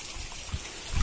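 Water trickles steadily along a channel in a planting field, a soft continuous gurgling flow heard close and alone.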